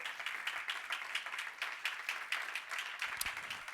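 A church congregation claps for the King in a quick, steady rhythm, many hands together at a moderate distance, continuing without a break.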